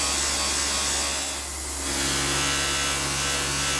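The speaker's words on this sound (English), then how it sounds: "using a file, I go around the curve and make the first throat piece" A hand file shapes the metal throat piece of a Bowie knife sheath, producing a steady, close rasping scrape over a low background hum, with a brief pause midway.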